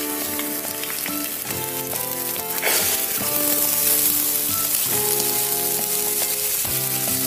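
Green peas, cabbage and carrot sauté with onions for vegetable pulao, giving a loud continuous sizzle and crackle close up. Stirring sounds and a faint tonal hum run underneath.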